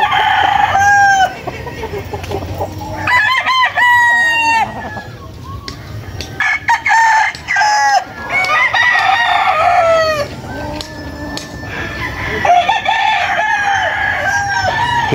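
Roosters crowing repeatedly at a large chicken farm in North Caloocan, several loud overlapping cock-a-doodle-doos from nearby birds with clucking and farmyard commotion underneath.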